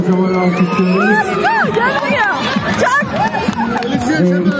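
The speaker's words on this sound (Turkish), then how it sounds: "Takımımızı kocaman alkışlıyoruz." Children and parents at a tug-of-war contest cheer and shout for a team, loud excited voices overlapping throughout with bright high-pitched yells close by, a dense festive crowd din with little clear clapping.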